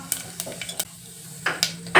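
Cumin seeds hit hot oil for a tempering in a home kitchen, giving short crackling sizzles broken by stirring and the clink of a pan, with quiet gaps between bursts.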